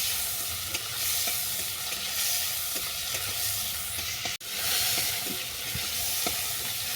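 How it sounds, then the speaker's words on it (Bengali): Prawns fry lightly in mustard oil with turmeric and salt, giving a steady, close sizzle and spatter with faint stirring clicks. The level stays even throughout, apart from one brief dip. "হলুদ দিয়ে মাছটাকে ভেজে নিচ্ছি কড়া করে ভাজবো না চিংড়ি মাছ হালকা করে ভেজে তুলে নেব"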